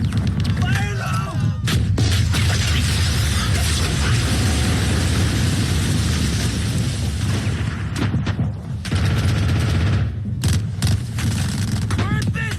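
A Bangalore torpedo explosion in a war film, heavy booming blasts and rumble amid continuous loud battle noise, with shouting voices in the scene.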